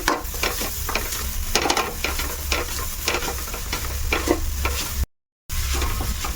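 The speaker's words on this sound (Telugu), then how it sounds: "ఒక 3 మినిట్స్ అలా వేపుకోవాలమ్మా మనం." Carrots frying in oil while a spoon stirs them around a pan, a steady close sizzle with repeated scraping strokes, cut by a brief gap of silence near the end.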